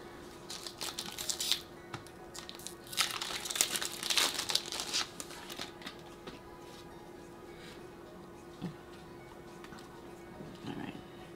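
Plastic blister packaging for Pokémon Twilight Masquerade cards crinkles and crackles in repeated bursts, loudest early on, then quieter rustles and occasional crinkles, close and with no talking.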